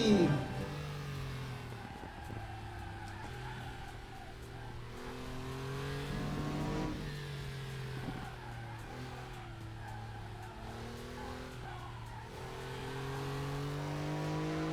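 A Porsche race car engine in the RaceRoom video game drones and revs continuously, its pitch climbing and dropping through gear shifts, an in-game car soundtrack with no talking.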